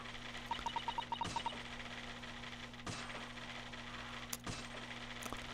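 Typewriter keys in The Great Ace Attorney Chronicles video game clack as a quick, quiet burst of evenly spaced clicks lasting about a second, followed by a few isolated soft thumps over a steady low hum.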